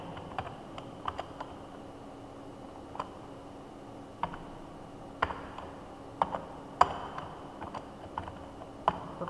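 Typing on a computer keyboard while writing HTML form code: scattered, fairly quiet key clicks in irregular bursts and single taps over a low steady hum.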